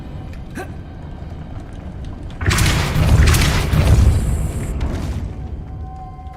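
Depulso spell blasting in Hogwarts Legacy: a sudden loud boom erupts after a quiet stretch and rolls on as a broad roaring burst for several seconds, slowly fading.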